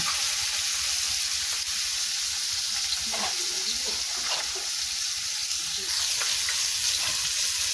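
Fish frying in hot oil in a village kitchen, a loud, continuous sizzle with faint stirring and popping, steady throughout and no talk over it.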